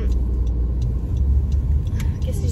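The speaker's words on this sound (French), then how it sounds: "c'est juste les voitures" Cars drive past on a nearby highway, a constant low rumble of traffic with tire hiss that swells and fades as vehicles go by, steady and fairly loud.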